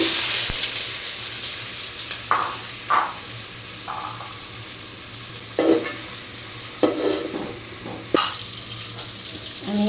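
Onions tossed into hot oil in a pan for a Catla fish curry, a continuous hiss of sizzling with clinks and scrapes of stirring, close and fairly loud, without talk.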